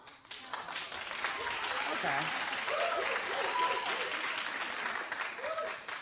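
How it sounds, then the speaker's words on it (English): A studio audience on a talk show applauds in a sustained, dense wash of clapping. A voice speaks briefly over it. "Clap if you think Miley."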